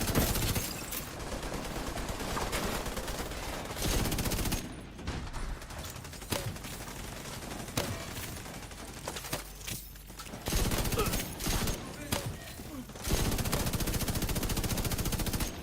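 Rapid automatic gunfire from the video game Division 2, sustained bursts of suppressed rifle and machine-gun fire with brief pauses, loud and dense throughout.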